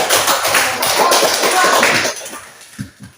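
A classroom of students clapping after a group presentation, a brisk burst of hand claps for about two seconds that quickly fades to a few scattered claps.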